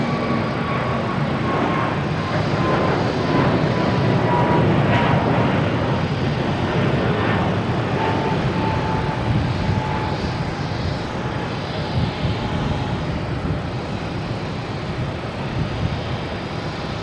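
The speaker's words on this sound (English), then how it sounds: "Here we have American Airlines taking off to Charlotte in the A321neo." An American Airlines Airbus A321neo takes off from Boston Logan, a steady broadband jet roar that stays loud and continuous throughout with no voices.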